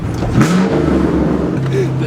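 A Volkswagen Golf Alltrack fitted with a diverter-valve spacer downshifts in traffic, with engine drone and a brief hissing whoosh from the blow-off valve. People talk over it inside the car.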